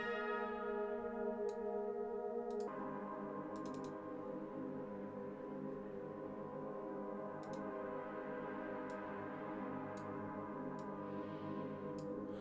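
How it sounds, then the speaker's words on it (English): A sustained, layered techno ambient drone hums quietly and steadily, shifting texture partway through, with faint bell-like chimes and light clicks dotted across it. "it's the kind of ambient sound in the background"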